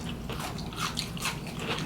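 Crunchy sauteed asparagus being bitten and chewed at a dinner table, with several crisp, close crunches in an uneven rhythm.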